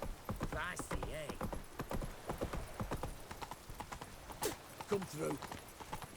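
Roach, a horse in The Witcher 3, runs with rapid, close clip-clopping hooves and a brief whinny, while someone speaks over the hoofbeats.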